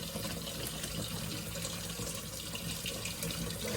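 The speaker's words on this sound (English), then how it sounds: "This is probably the last time I'm going to fill the pot up." Tap water runs steadily into an Instant Pot, rising over farm-fresh eggs inside; a continuous close rush of filling water with no talk.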